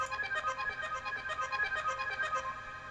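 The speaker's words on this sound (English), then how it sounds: "grab shimmer, which is kind of a super ambient reverb" A synth bell drenched in shimmer reverb rings a rhythmic pattern of bright tones, each note blooming into a soft, sustained wash of ambient shimmer that lingers between hits, fairly quiet with no voices.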